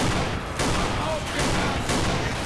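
A shotgun with modded skin sounds fires in the Left 4 Dead video game, several heavy booming blasts about a second apart over constant game noise, with voices present.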